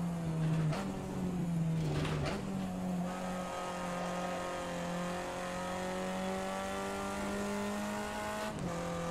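A Renault Twingo race car driving at the Nürburgring in a racing video game, its engine a loud, steady, close drone that climbs slowly in pitch as it holds revs, with a few brief shifts and bumps.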